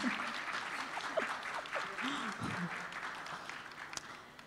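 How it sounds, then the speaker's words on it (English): An audience claps for the cast of Saas Bahu Achaar Pvt at a festival panel discussion. The applause is dense and steady and holds throughout, with faint voices mixed in. "please give them a second round of applause."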